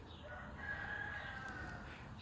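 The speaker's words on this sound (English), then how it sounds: "Here's some chickens and roosters going on." A rooster crows once, faint and distant, amid a few chickens on a rural property in Murray on a rainy evening, with soft outdoor background noise around it.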